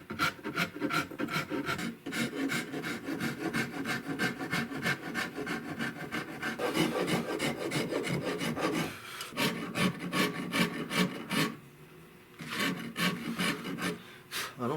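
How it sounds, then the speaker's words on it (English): Rough filing on a rifle drop grip stock for a Tikka T3, a dense continuous rasping of rapid back-and-forth strokes, loud and close, with only brief pauses. "I don't like doing rough filing with all this stuff in the way"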